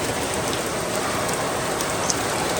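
Heavy rain pours steadily outside a house where water is starting to pool, a dense, continuous hiss with scattered drops pattering close by and no voices.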